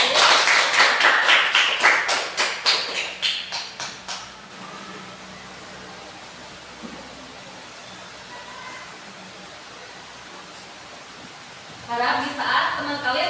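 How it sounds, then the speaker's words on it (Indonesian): A classroom of students gives a group a round of applause, a dense burst of clapping that fades out after about four seconds, followed by quiet room tone and then voices. "beri tepuk tangan kepada kelompok 1"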